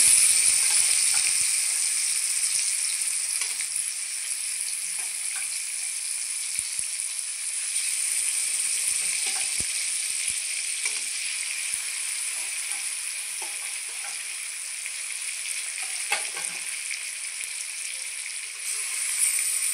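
Chicken pieces for biryani fry in hot oil, giving a loud, continuous sizzling hiss that holds steady for a long stretch with occasional spits and faint stirring, and no one talking.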